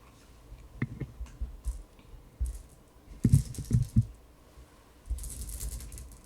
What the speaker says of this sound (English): That's the sound of the Skittles on my table.